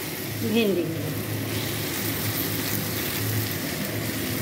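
Fried okra sizzles steadily in a pan of onion and spice masala, a soft continuous frying hiss over low flame with no one speaking.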